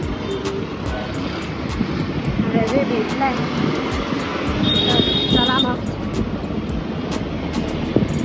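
A train rumbles past close by in a broad, steady roar lasting the whole stretch, with people talking over it.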